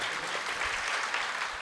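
Church congregation during an Ascension Sunday Mass claps loudly, a thick continuous burst of many hands applauding together, sustained and even for the whole moment without anyone speaking.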